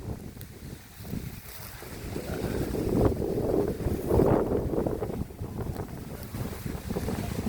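Strong wind gusting over the microphone while a kite is flown outdoors, a continuous rushing roar that swells louder mid-clip and then eases slightly, heard without talking.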